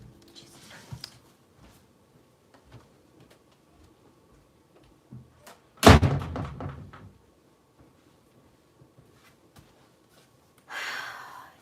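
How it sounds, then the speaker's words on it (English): A door is shut in a quiet room, landing as one loud, sharp slam midway that fades quickly; another brief scraping noise follows near the end. "let me close the fucking door"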